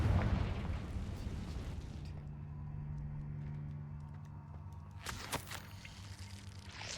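A Confringo spell explodes in the Hogwarts Legacy video game, a loud booming blast up front that rumbles and fades over several seconds, with a second sharp burst crackling in near the end.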